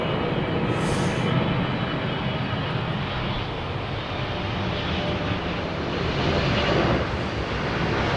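Airbus Beluga XL landing at Heathrow Airport, its engines making a loud, continuous, broadband jet roar that holds steady throughout, with no voices.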